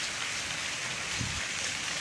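Rain falls steadily in Porbandar, a dense, even hiss of drops on surfaces with no talking over it.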